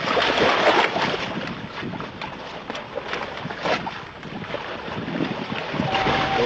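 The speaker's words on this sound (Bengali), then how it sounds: "ট্রলার নিয়ে যাত্রা করেছিলাম" A trawler crosses open sea off the coast of Sandwip, making a constant loud roar of engine drone, rushing water and wind buffeting the microphone, with no pauses throughout.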